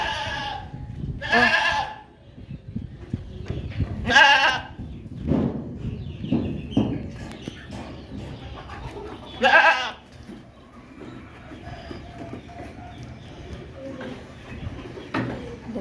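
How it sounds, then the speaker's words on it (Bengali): Goats bleat repeatedly in loud, close bursts as they are let out, with a few spread-out calls and soft rustling in between, and brief voices in the background. "আমাদের ছাগলগুলোকে বের করছে।"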